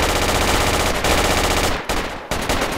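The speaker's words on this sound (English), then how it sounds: "If we shoot enough bullets, they'll get scared." Machine gun fire in the tactical shooter Project Reality comes as loud, close, sustained rapid bursts with only brief breaks between strings of shots.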